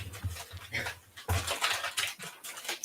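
New puppy whimpering and panting close by, several short soft yelps and breathy sounds in quick succession indoors.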